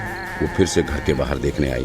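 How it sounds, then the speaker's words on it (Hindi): A run of short, wavering bleats from a baby goat, repeating in quick succession while a person speaks over them. "फिर उसे बकरी के बच्चे की आवाज आने लगी"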